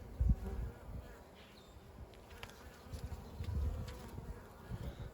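Honey bees buzz faintly in and around an open hive during an inspection, a low, steady hum that swells slightly in places, heard alone without talk.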